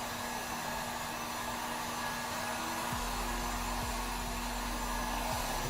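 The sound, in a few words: blowing air over motorhome table to remove hair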